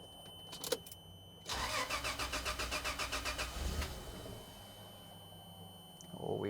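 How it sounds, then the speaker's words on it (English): A Toyota Land Cruiser FZJ80 engine after a fuel pump replacement cranks with a rapid rhythmic churning for about two seconds, catches, then settles into a steady idle, heard up close. "let's see if this actually starts and turns on."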